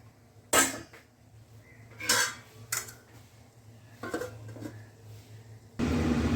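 A metal lid clanks onto a pan of chilli chicken being cooked at home, with several sharp clattering knocks spread over a few seconds against a steady low hum, then a burst of broadband noise at the end.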